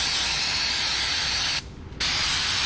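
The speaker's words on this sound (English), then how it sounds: "using brake cleaner or starting fluid" Brake cleaner sprayed from an aerosol can onto go-kart bearings: a loud, close, continuous hiss that breaks off briefly once and then resumes.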